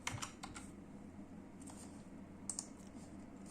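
Arduino code being typed on a computer keyboard during a potentiometer tutorial: faint, quick clusters of key clicks, a few pausing briefly between bursts, quiet and close, with no voice over them.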